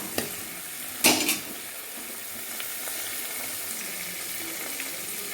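Potatoes and aromatics sauté in a pan for a white potato kuruma, a steady hiss of sizzling running throughout, broken early by a couple of louder clattering stirs or scrapes.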